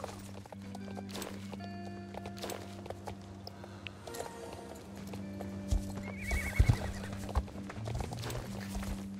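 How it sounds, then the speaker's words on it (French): In the video game Star Stable Online, a horse's hooves clip-clop in a steady walking rhythm and a neigh breaks in partway through, all close and fairly quiet. "Ah, j'ai trouvé le cheval qui me manquait."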